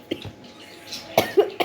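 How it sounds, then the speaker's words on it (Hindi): A few short close coughs scattered across a brief moment, light and dry, with a quiet pause between the first and the later pair. "स्टिल मुझे खांसी है"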